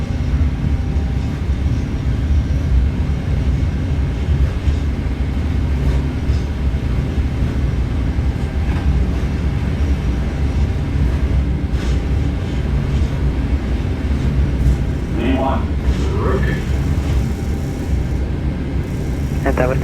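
Jet engines on a Boeing 777-300ER in a flight simulator roll at takeoff thrust, a loud, continuous low rumble and roar that holds steady, with brief clicks and voices over it.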